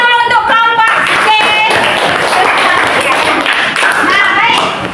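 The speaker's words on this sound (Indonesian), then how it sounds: "Tepuk tangan dulu untuk kelompok C" A classroom group claps for a presenting group of students, a short burst of scattered hand claps heard alongside a teacher's voice and chatter in the room.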